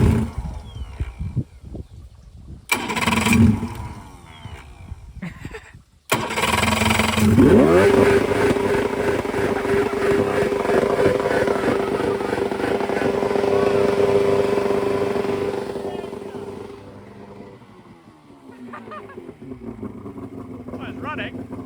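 An outboard boat engine coughs briefly, then catches and runs with a steady, loud rumbling drone for about ten seconds before settling lower. Voices talk over it at times.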